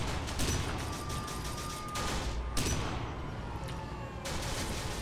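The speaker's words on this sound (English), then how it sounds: "There is blind fire." Rapid bursts of blind-fired gunfire from the video game Kane & Lynch 2, loud and dense, with several volleys of shots over a steady noisy background.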